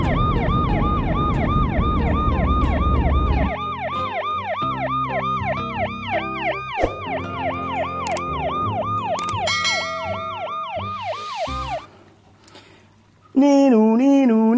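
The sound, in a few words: toy ambulance siren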